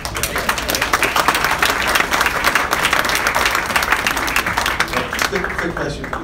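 Audience applause at a meet-and-greet event, dense clapping from a crowd, loud and continuous, with voices mixed in.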